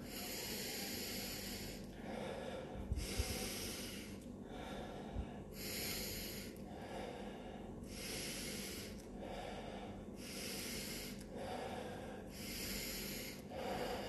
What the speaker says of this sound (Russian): inhale 30 times